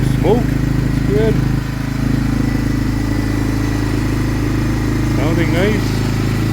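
A Honda 300 ATV engine idles steadily while warming up, giving a constant close low rumble throughout, with brief chirping sounds over it.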